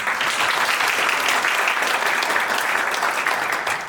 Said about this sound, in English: Please give it applause.